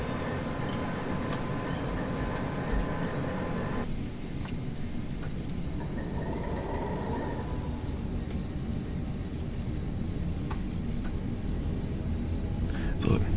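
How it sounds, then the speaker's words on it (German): Diesel locomotive rumble and rolling train noise in a rail simulation game, a V60 shunting engine working close by, steady and continuous with faint wheel squeal and brief higher clicks. "die V60 rangiert hier neben uns"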